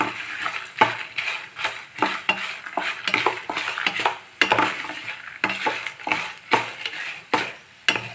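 Coriander seeds and dried chilies roasting in oil in a pan for vatha kuzhambu, a metal spoon repeatedly scraping and clinking against the pan in an uneven rhythm over a soft sizzle, close and without talk.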